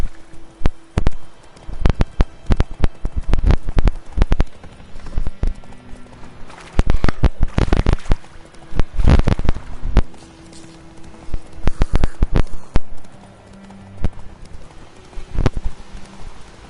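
Roach the horse gallops in The Witcher 3, hooves pounding in quick clip-clop bursts that come and go in loud runs separated by brief lulls.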